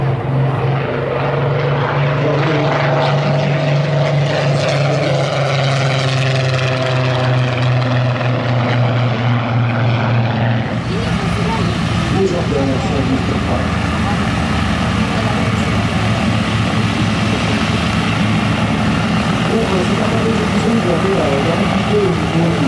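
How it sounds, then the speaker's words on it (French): At an air show in Sion, a Supermarine Spitfire Mk 19 comes in on final approach with flaps down, its propeller engine droning loudly and shifting in pitch as it passes nearby, under a commentator's voice. "regardez maintenant en finale, avec les volets sortis, cette légende de l'aviation, le Supermarine Spitfire"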